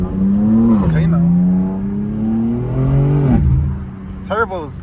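A Dodge Trackhawk's turbocharged engine holds a steady droning rev with a rising pitch that dips and climbs again, loud and close, with a short voice near the end.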